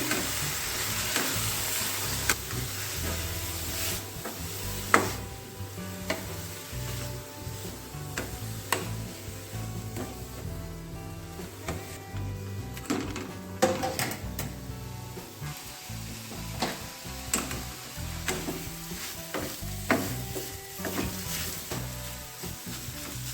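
Dill leaf masala with grated coconut and tamarind frying in a pan, a steady soft sizzle with irregular scraping stir clicks throughout.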